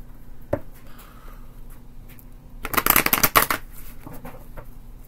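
Deck of tarot cards shuffled by hand, a quick dense riffle of fluttering card edges near the middle, close and fairly loud, surrounded by quiet room tone and a few soft taps.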